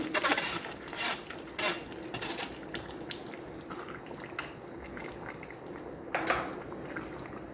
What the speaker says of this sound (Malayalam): ഇട്ട് കൊടുത്തിട്ട് നന്നായിട്ടൊന്ന് ഇളക്കുക.